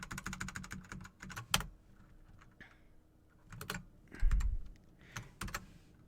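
Fast keystrokes on a computer keyboard come in bursts of close, crisp clicks, broken by a short quiet pause before further runs of typing.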